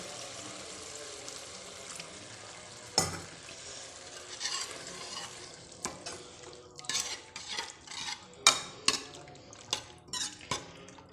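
Milk poured into a pan of capsicum (bell pepper) curry as it cooks, a soft sizzle and bubbling under stirring, with a spoon scraping and knocking against the pan in scattered clicks and taps throughout.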